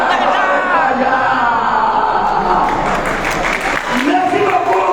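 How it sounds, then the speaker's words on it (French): A crowd at a rally for Mali in Paris applauds in a dense, continuous wash of clapping, mixed with shouting and raised voices throughout. "Merci, applaudissez"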